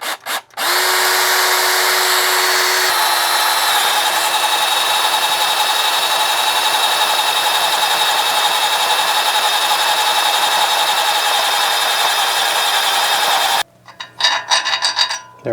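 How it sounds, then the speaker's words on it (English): Power drill boring a hole in a Jeep Wrangler's metal with a step drill bit, a loud continuous whine that shifts pitch partway through, running about thirteen seconds before stopping, followed by brief clatter. "Let's drill a hole."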